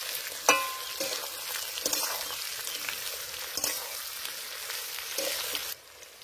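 Jackfruit curry fries in a pan for a vegetarian Bengali dish, a soft steady sizzle broken by occasional clinks and stirring scrapes, fairly quiet and close.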